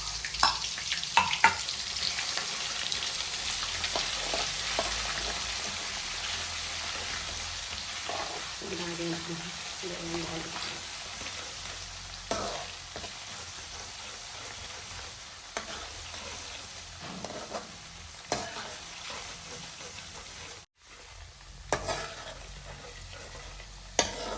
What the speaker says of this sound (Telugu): దోరగా ఎగిన చికెన్ పీసుల్ని అల్లం వెల్లుల్లి పేస్ట్లో వేసి బాగా ఫ్రై చేయండి